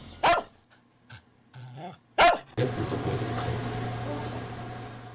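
A dog gives two sharp, loud barks with quieter grumbling sounds between them, followed by steady background noise.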